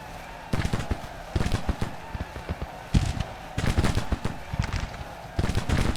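Massed musket and rifle fire in a Grand Tactician: The Civil War battle, with repeated crackling volleys and bursts arriving in uneven clusters, loud and continuous across the whole stretch.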